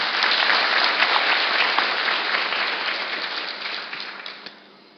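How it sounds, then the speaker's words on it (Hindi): An audience at a Hindi spiritual talk bursts into sustained applause, a dense wash of many hands clapping that holds steady and then gradually fades away, with no voices over it. "इसके लिए एक बार ताली तो जरूर बच सकती है।"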